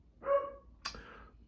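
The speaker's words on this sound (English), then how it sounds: "But you can hear my dog barking." A dog gives a single short bark nearby, followed by a sharper, brief second yelp, both faint against a quiet room.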